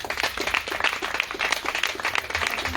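Dense, steady applause from a press conference audience, many hands clapping close together at a sustained level throughout, with no voices rising above it.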